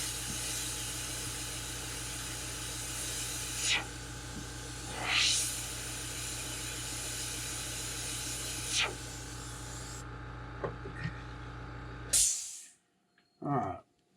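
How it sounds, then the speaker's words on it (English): Airbrush or spray gun hissing steadily while painting a custom shad fishing lure with faded dot edges, a continuous close spray with a few brief louder bursts before it cuts off near the end. "I like to just spray them."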